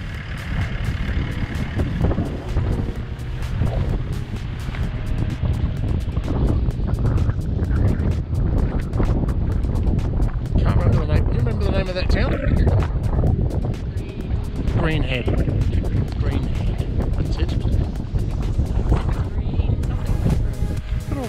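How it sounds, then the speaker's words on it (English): Steady wind roars into the microphone at Point Louise coastal lookout on Milligan Island, Australia, a continuous loud rush with no letup, while a person talks over it at times. "The wind is a bit chilly too, and I got a t-shirt on."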